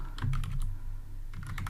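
Typing on a computer keyboard while writing code for a drawing app, with two quick bursts of close, crisp key clicks separated by a short pause, and no talking.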